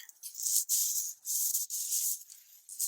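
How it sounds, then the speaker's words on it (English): Sanding strips paint from an engine part during a 1966 Mustang GT rebuild, producing close, hissy abrasive strokes in a quick rhythm of short bursts with brief gaps and no voices. "Have to try to get that the rest of the way sanded down, ground down, and try to get as much paint off as possible"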